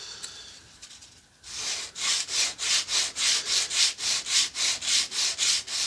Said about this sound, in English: I got myself a sanding block